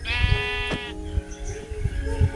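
A Minecraft sheep bleats loudly in a long wavering cry, followed by soft game footsteps and small thuds, with no voices.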